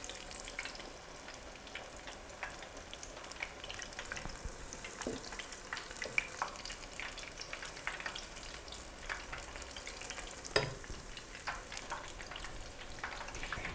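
Dahi bhalla batter frying in hot oil, a faint, even crackle and sizzle running throughout with scattered small pops, no voices.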